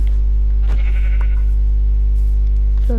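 A sheep bleats in a video game, two short bleats over a loud constant electrical hum, fairly close and alone without talk.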